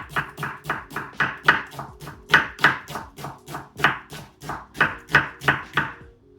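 Knife slicing through an onion on a chopping board, a steady run of about twenty crisp cuts at an even, quick rhythm, close and clear with no talking.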